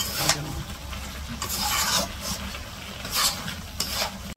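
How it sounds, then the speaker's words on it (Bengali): Eggplant pieces frying and being stirred in an oiled pan, a steady sizzle with scraping strokes of a spatula recurring every second or so, close and fairly loud with no talking. "অনেক সময় কষাই নিয়ে তারপরে বেগুন দিতেছে"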